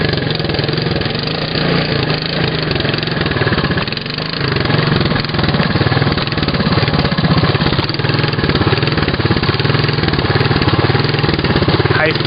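Old three-wheeler trikes roar through the mountain peaks, one engine revving hard and steady through a wheelie, loud and continuous with a rough motorcycle-like drone.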